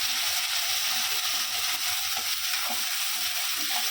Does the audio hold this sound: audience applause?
no